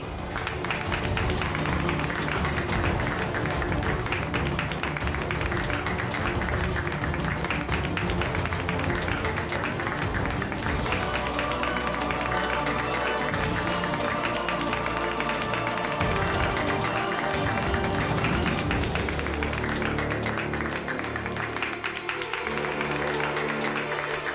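An audience claps steadily and loudly, a dense sustained round of applause that runs throughout with some voices mixed in.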